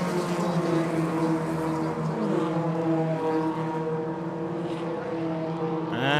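About 45 race cars droning together on a circuit at steady pitch during qualifying, a thick layered roar of a large pack, with a rising whine near the end.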